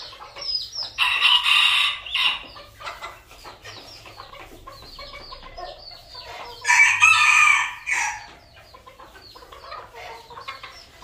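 Northern Vietnamese bantam chickens, free-range in a garden, cluck steadily up close, broken by two loud crowing bursts, one early and one about midway.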